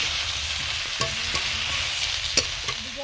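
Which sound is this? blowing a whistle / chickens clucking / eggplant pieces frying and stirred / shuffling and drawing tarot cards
eggplant pieces frying and stirred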